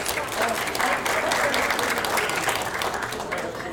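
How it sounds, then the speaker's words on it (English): Audience applause at a State of Education event in Torrance, California: a dense, steady burst of clapping from a seated crowd, filling the short stretch without pause. "Can we have a round of applause, please?"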